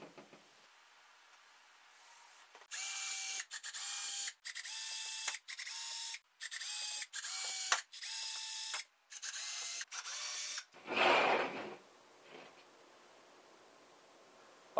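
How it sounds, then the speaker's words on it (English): A power drill boring small 1/16 inch holes around a length of pipe, heard as a series of about ten short, loud whirring bursts with brief gaps, ending in a rougher, louder burst as the bit breaks through. "drilled 1/16 inch holes, spaced evenly all the way around, about 8 to 10 per piece of pipe"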